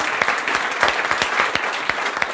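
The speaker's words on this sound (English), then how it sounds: "If you could give it up for Bold Rocket for giving us this space this evening" An evening event audience claps for Bold Rocket, a close, lively round of applause with individual hand claps standing out in an uneven rhythm throughout.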